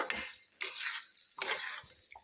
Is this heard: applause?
no